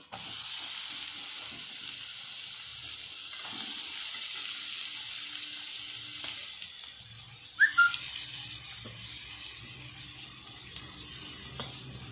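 Cabbage being stir-fried in a pan while preparing wheat-flour momos, a steady close sizzle and frying hiss running throughout with a brief sharper clatter of stirring midway.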